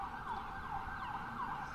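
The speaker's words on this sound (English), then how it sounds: "as I let our ambulance do their thing" An ambulance siren wails during an outdoor media briefing about a 3rd Street tunnel water main repair, its rising and falling cycles repeating steadily at moderate distance with no talk over it.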